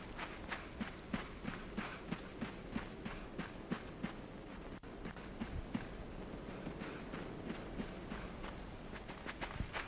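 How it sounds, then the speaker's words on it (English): Video game footsteps crunching on gravel and then thudding on wood, a steady quick run of evenly spaced steps, faint and played back from a recording. "here you hear the footsteps of gravel, and here you hear footsteps of the wood"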